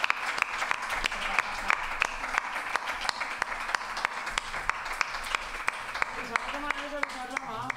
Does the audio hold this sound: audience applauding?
yes